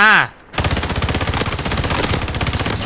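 Rapid automatic gunfire from a shooting video game rattles loud and close in a dense, continuous burst following a brief tone and a moment of silence.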